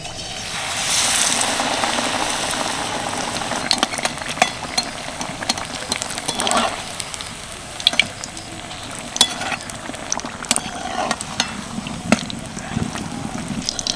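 Bottle gourd chops frying in hot oil give a steady, moderately loud sizzle across the whole stretch, with scattered sharp crackles and pops.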